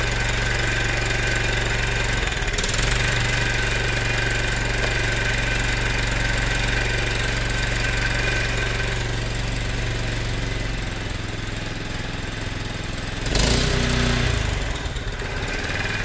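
A small Staub tiller with a Kawasaki motor idles steadily after being restarted, a loud, even mechanical chug with a faint knocking rhythm, with short bursts of clatter partway through and again near the end.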